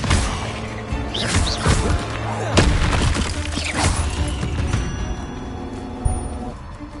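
A fire spell cast in a Harry Potter video game: a dense, loud burst of crackling impacts and whooshing blasts with several sharp hits over a busy game-effects background, no talk.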